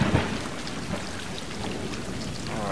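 Steady rain pours with a low rumble of thunder underneath in the video game Stray, an even, enveloping wash of storm noise with no talking.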